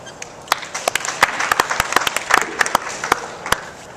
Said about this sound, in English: Please, a big round of applause for Uwe.